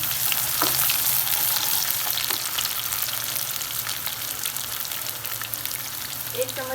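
Onions frying in hot oil in a home kitchen pan, a steady close sizzle with crackling spatters throughout and occasional stirring, no talking.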